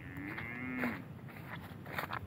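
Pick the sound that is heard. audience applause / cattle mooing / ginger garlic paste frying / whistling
cattle mooing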